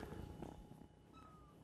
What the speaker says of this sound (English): meowing on the floor is Maud. The new Skeptic Zone kittens